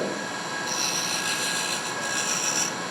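A wood turning tool is held as a scraper against spinning wood on a lathe, giving a continuous, close, hissing, scraping whine that holds steady for the whole stretch.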